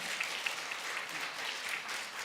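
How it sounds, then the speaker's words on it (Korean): A crowd applauding steadily in a church service, a dense patter of many hands clapping at moderate volume with no voices over it. "우리 박수 부탁드리겠습니다"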